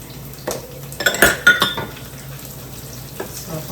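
Sautéing in oil in a pan while cooking chicken with pineapple and cream: loud metal clanks and scrapes of a spoon against the pan over a low steady sizzle.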